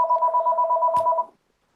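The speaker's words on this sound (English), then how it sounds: "I'm sorry, a phone rang" A telephone rings with a loud, close, warbling electronic trill repeating rapidly for about a second before it cuts off abruptly, with a brief click near the end and silence afterward.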